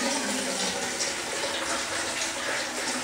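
Gasoline poured from a container into a small lawn tractor's built-in funnel, a steady hissing, gushing pour heard up close for a few seconds.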